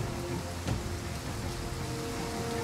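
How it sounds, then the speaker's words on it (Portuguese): Steady rainstorm in Total War: Pharaoh Dynasties, a broad even hiss of rain with a brief low rumble near the start, continuous and moderately loud with no voices. "E é tempestade ainda, hein?"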